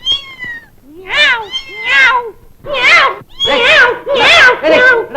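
A person imitates a cat with a series of loud, close, drawn-out meows in repeated bursts, each rising and falling like a caterwaul, meant to scare off rats in a mill.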